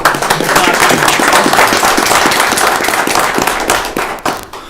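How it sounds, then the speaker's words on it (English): Audience at a city council meeting gives a sustained round of applause, dense overlapping claps filling the room loudly before thinning out at the end. "We'll clap."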